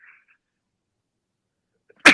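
One short, loud sneeze bursts out at the very end after near silence, with a faint brief noise at the start.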